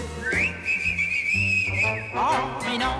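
A whistle sounds during a song-and-dance number from a 1976 variety show, a long steady tone with a sliding rise and fall over brass and band accompaniment, loud and close.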